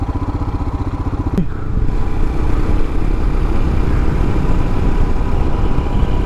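Royal Enfield Himalayan motorcycle riding at speed on a dirt trail, its steady single-cylinder engine drone and wind rumble loud and continuous throughout, with an uneven, lumpy beat at the start.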